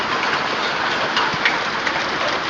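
Hail pelts down outdoors in August, a dense, steady patter of hard stones on surfaces with a few sharper impacts, continuous and fairly loud throughout.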